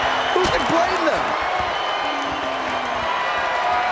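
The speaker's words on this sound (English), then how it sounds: "This crowd is thunderous right now." Dense, loud roar of a wrestling arena crowd in WWE 2K24 during an ambulance match, steady cheering throughout with a commentator talking over it.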